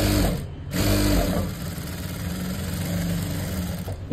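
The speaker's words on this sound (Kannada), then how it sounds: "ಈ ಥರ ನೀಟಾಗಿ ಸ್ಟಿಚ್ ಹಾಕ್ಕೊಳ್ಳಿ." A sewing machine runs steadily and loud while stitching the lining of a blouse sleeve with a ready-made border, with a brief dip near the start before the continuous whirring motor hum resumes.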